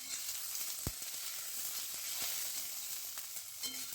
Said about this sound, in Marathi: हे सगळे वाटाणे याच्यामध्ये घातले। आता 1-2 मिनिटांसाठी मंद गॅसवरती आपण हे परतून